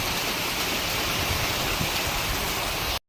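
Heavy rain falls in a thick, steady roar of close hiss, even and loud for about three seconds before it cuts off abruptly, with no one speaking.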